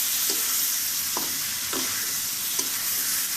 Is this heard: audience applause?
no